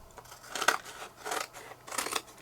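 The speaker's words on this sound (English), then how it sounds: "I find cutting around it with the bigger scissors makes it so much better and neater." Big scissors snip through card in three or four drawn-out, crisp slicing strokes, close and clear with no talk.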